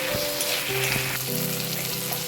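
Crushed garlic and ginger paste fry in hot oil with a continuous, lively sizzle, while a faint tonal melody plays underneath.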